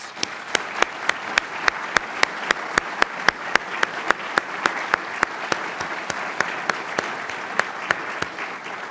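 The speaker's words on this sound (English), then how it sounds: "Let's give them a round of applause." A room of guests at a law college building's grand opening gives a sustained round of applause, with one nearby clapper's sharp, evenly spaced claps standing out over the steady crowd.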